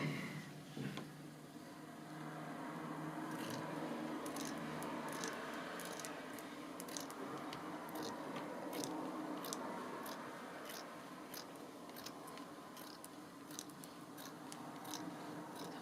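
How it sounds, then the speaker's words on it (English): Scissors cut paper for a journal along a fold in a straight line, a quiet run of repeated crisp snips and slicing crunches at an uneven rhythm, close up with no talking. "So I'm just going to do my best to cut it in a straight line"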